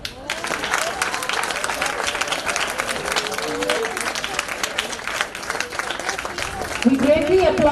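An audience applauds the top performer at the closing ceremony of a youth parliament event, sustained moderate clapping with a voice talking over part of it.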